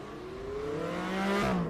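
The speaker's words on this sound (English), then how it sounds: "Tyler Edwards working his way through the final couple of turns now in the Miata." A Mazda Miata race car at an autocross rises in pitch as it accelerates through the final turns, a steady engine whine heard from a moderate distance.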